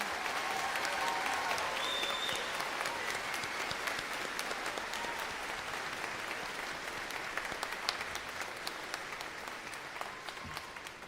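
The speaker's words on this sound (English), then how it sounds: "Let's give these award winners a round of applause." Sustained applause from a commencement ceremony audience for scholarship award winners, a dense, steady wash of many hands clapping from start to finish, moderately distant in a large hall.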